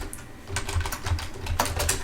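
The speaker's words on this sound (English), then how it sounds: "Oh man, I'm like screwing up all my typing." Fast typing on a computer keyboard while coding, a close, steady run of light key clicks with a few louder taps, no voices.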